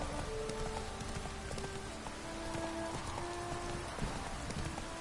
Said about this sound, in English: you can actually like go full gallop with your horse